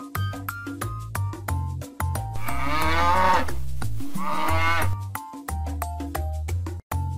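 A cow moos in two long, loud drawn-out calls amid a quiz game for guessing animal sounds, with a repeating electronic melody playing underneath throughout.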